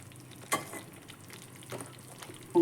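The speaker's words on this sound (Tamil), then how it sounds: "இப்போது திரும்ப கொஞ்சம் நெய் விட்டுக்கலாம்." Ghee poured into kesari in a pan, a soft sizzle with brief scraping strokes of stirring, faint and close, a couple of sharper clatters of the spoon.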